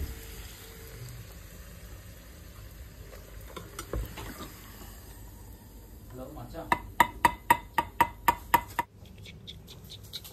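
Puri frying in a small amount of oil, a faint continuous sizzle under background chatter, ending in a run of quick, regular tapping strikes before dropping away.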